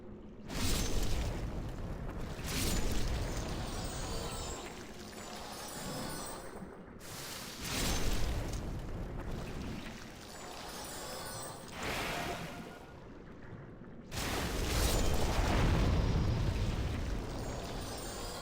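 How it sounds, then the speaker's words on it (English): Boss-fight explosions in a video game, four or five long, roaring, rumbling blasts in a row, each a loud broadband surge of several seconds separated by brief lulls. "Thankfully, I'm durable enough that I could just tank those explosions."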